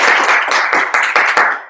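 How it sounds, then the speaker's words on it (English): Audience at a Toastmasters meeting applauding, a fairly close group clapping in an uneven, slightly rhythmic burst that thins out toward the end. "Can I get a round of applause for Gary, everyone?"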